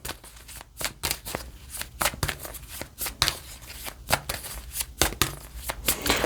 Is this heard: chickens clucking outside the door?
no